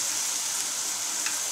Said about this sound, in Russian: Не забываем смотреть, что у нас тут каша уже поджаривается